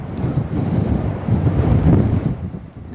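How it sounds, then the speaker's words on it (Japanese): Strong wind during a snowstorm in Otaru, Hokkaido, roaring and buffeting the microphone in loud continuous gusts that swell and ease over a few seconds. "強い風と雪で視界が悪い状態が断続的に続いています。"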